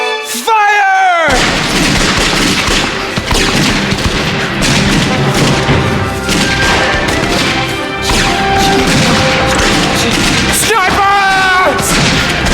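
Soldiers fire a loud, dense volley of rifles and cannon during a revolutionary street battle, producing continuous crashing booms with shouting voices mixed in.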